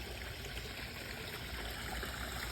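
Water from a hose pours into a koi pond in a soft, steady, continuous trickle and splash, faint and even throughout with no talking.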